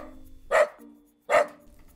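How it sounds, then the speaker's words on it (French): Two loud, sharp barks from a Dalmatian dog, close by and evenly spaced about a second apart, with quiet between them. "C'est un chien, plus exactement un dalmatien."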